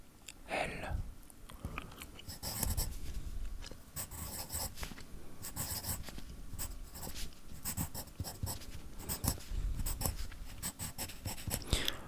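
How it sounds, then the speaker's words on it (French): Pencil scratching steadily across a paper crossword grid, close and soft, with rapid bursts of writing strokes and brief pauses, alongside faint gum chewing in a whispery ASMR setting. "aujourd'hui normalement le son du crayon à papier est mieux maîtrisé que dans la vidéo précédente encore"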